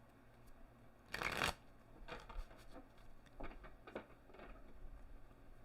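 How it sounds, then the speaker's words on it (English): Tarot cards being shuffled close up, a loud riffling burst followed by several softer quick card flicks and taps, quiet between strokes. "Let's grab these cards here. And let's give you guys the shuffle treatment"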